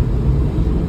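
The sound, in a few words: car driving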